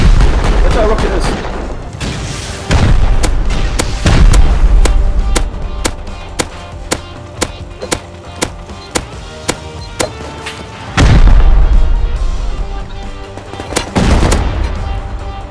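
Rocket explosions in the video game Rust: several loud, heavy booms with long rumbling tails, between them a steady string of sharp gunshot cracks, with talk over parts of it.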